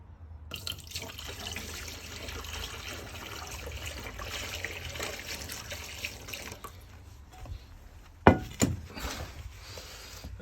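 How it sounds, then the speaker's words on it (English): Water poured from a saucepan trickling and splashing into a campervan shower tray, a steady soft flow with small drips, ending in a few sharper splashes near the end. "I've got a saucepan of water here, and I'm going to pour some in"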